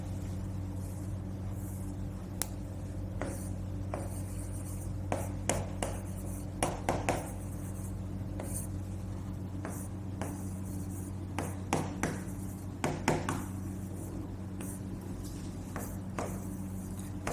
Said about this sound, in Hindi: ऊपर ही लिखते हैं।